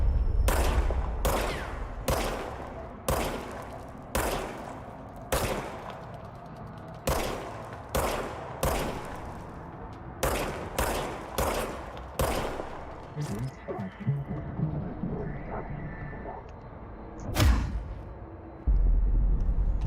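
Gunfire from the player's weapon in the video game Control, a series of loud, sharp shots in bursts and single blasts with gaps between them, under occasional faint talk.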